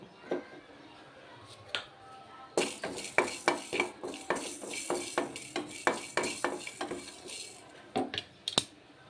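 Fenugreek seeds frying in a pan for tomato chutney, with sharp spoon scrapes and taps against the pan over a light sizzle and crackle, close up.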